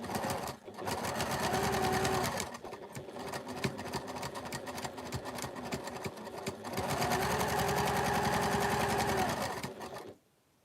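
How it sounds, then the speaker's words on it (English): A sewing machine stitches down the edge of a quilted wall hanging in fast, steady bursts, pausing briefly midway before resuming, then stopping abruptly; close and loud. "I am going to just take this to my sewing machine and I'm going to sew that down the edge."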